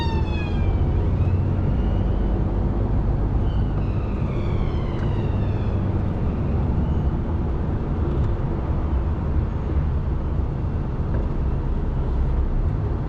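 An ambulance siren wails and sweeps from behind on a motorway, partly masked by loud, constant cab and road rumble, its tones rising and falling in repeated cycles early on before fading under the drone.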